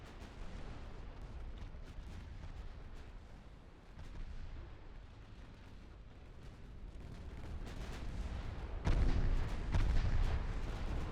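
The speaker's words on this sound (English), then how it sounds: "Oh, ammo detonation." An ammunition detonation tears through a warship in the naval battle game Ultimate Admiral Dreadnoughts, a continuous roar of rumbling blasts and crackling bursts that swells louder near the end.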